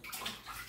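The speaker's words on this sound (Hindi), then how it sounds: "Vaishnavi is playing with water." A small child splashes bath water while bathing, producing a short, close burst of sloshing and slapping water.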